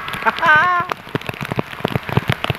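Heavy rain pours down during Typhoon Enteng, a steady dense hiss of drops on surfaces, loud and close, with a voice briefly calling out near the start and brief speech mixed in.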